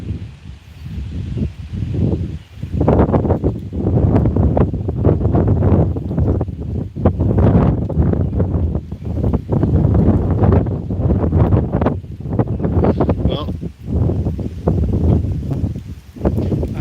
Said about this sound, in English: this wind is just going to keep picking up and you guys won't be able to hear me in a minute